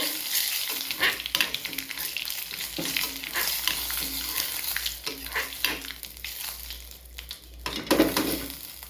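Idli kaara chutney ingredients frying on a simmer in a pan while being stirred: a continuous close sizzle with repeated rhythmic scraping strokes of a spoon, loud and unbroken by speech.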